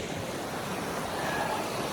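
Fresh creek running down toward a river in the Alaskan wilderness, a steady broadband rush of flowing water that fills the whole clip, close and unbroken, with no voices.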